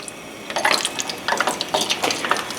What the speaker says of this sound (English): Once your temperature reaches 400 degrees on the oil, carefully add in the fish back.